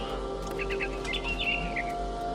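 A bird chirps in the video game What Remains of Edith Finch, a string of quick bright tweets and trills, fairly near and clear over a low steady ambient hum.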